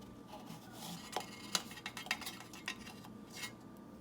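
A spoon mixes eggless banana bread batter in a bowl after baking soda and baking powder go in, giving scattered light clinks and scrapes against the bowl over a quiet background.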